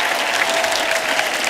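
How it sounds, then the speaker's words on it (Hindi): A studio audience on a comedy talk show applauds its guests with steady, dense clapping that fills the room throughout. "एक बार हमारे मेहमानों के लिए जोरदार तालियां।"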